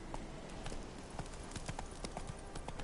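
Steady clip-clop of horse hooves as a rider travels on horseback in The Witcher 3, a rhythmic trotting beat that runs through the whole stretch, close and clear.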